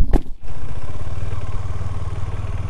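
A motorcycle riding on a mountain road near Kodaikanal, its engine droning steadily and close with wind rush, after a brief clatter at the start.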